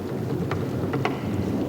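Heavy rain pours in a chimpanzee forest, a dense, steady hiss and low rumble of thunder and wind, with a few faint sharper cracks scattered through it.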